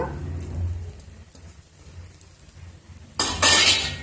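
Curry leaf rice being stirred with ghee in a pan, soft scraping and clinking of a spoon against metal, growing louder and busier in the final second.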